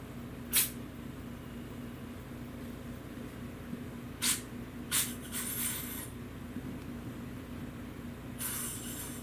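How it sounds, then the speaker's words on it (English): A Sodaology soda maker's top valve is pushed to vent excess pressure, giving a few short, sharp hissing bursts of gas spaced apart over a steady low background hum. "all I have to do is push that valve to get that excess released so that I can enjoy my drink"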